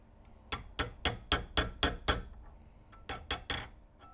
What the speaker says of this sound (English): we're going to get it hot and tap on it and walk it around the corner